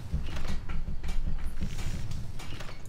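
A chair creaking under shifting weight, a run of rhythmic wooden groans and knocks repeating about every half second, close and moderately loud with no talk.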